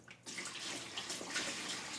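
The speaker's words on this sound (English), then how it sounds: "We just take the lid off of our slushie machine and then just pour in the juices." Juice mixture for a wine slushie poured into a slushie machine in a winery tasting room, a steady close splashing pour that starts abruptly and runs on without pause.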